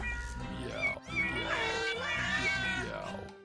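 Several drawn-out cat meows from the video game Cat President repeat over a steady background hum, clear and close, with a synthetic game-like quality.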